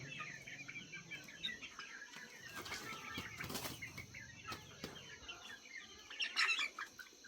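Chickens inside a dusty coop flapping their wings and shuffling about, with bursts of wingbeats in the middle, scattered clucks and chirps, and a louder flurry near the end, heard close and fairly faint.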